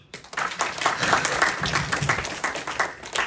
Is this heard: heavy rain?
no